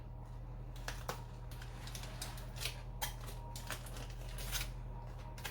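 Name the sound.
unwrapping wrapped lemon pepper turkey legs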